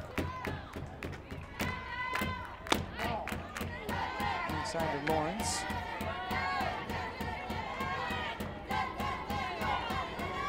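Softball players chant rhythmic cheers from the Michigan dugout at a 2014 NCAA regional game against Arizona State, with claps and shouts under a commentator's voice.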